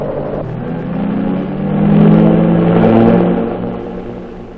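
A twin-engine Piaggio aircraft drones steadily in flight, a loud, continuous engine hum that swells slightly midway and then eases, with no voices.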